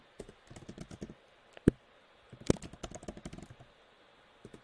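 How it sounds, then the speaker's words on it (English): Keys clatter on a computer keyboard in short uneven bursts, with light close clicks broken by pauses and a couple of sharper, louder key strikes. "Man, I can't type."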